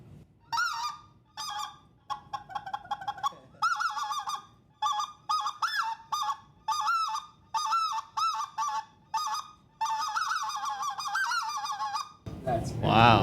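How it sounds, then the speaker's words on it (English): A specklebelly goose call is blown in rapid, rhythmic bursts of high, yodeling two-note honks, loud and close, repeated in short runs with brief pauses, ending with a moment of handling noise. "this is the spec, which sounds completely different and is very different from blowing a goose call"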